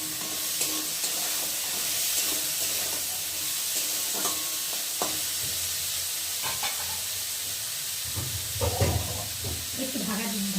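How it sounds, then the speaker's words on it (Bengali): Potato pieces fry with already-fried onions in a hot pan, giving a steady sizzle broken by occasional stirring scrapes and a few knocks of the utensil against the pan. "তো দেখো পেঁয়াজটা ভাজা হয়ে গেছে আর এখন আলুটা দিয়ে ভালো করে ভেজে নেব"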